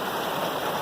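Steady rain falls over a farm just after a storm, a dense even hiss of drops with a faint trickling, streamlike wash, close and unbroken with no voices.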